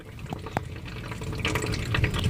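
Water drips and trickles inside a leaking 1994 Honda car, with a few distinct drops early and then a busier, splashier run of liquid sounds close by; no one speaks.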